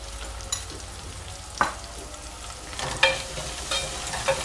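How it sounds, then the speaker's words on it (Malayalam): Onion, green chili and garlic sauté with salt in a pan for an okra and egg thoran, a soft steady sizzle punctuated by several sharp spoon-against-pan scrapes and clinks, close by and without talk. "ഒരു 2 മിനിറ്റ് നമുക്കൊന്ന് വഴറ്റി കൊടുക്കണം. ഈ ഉള്ളിയിലൊരു പച്ച മണമൊന്ന് മാറണം."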